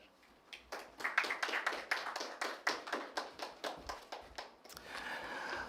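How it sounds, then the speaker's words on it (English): A policy forum audience applauds, heard as a faint, fairly distant patter of claps. It comes in uneven pulses, then settles into a steadier murmur near the end. "I think we should give ourselves another round of applause"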